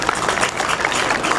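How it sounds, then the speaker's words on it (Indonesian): A crowd applauds athletes at the opening ceremony of a regional student sports week in East Nusa Tenggara, a dense, steady burst of clapping filling the space, briefly. "Tepuk tangan dulu buat para atlet ini, hebat tuh"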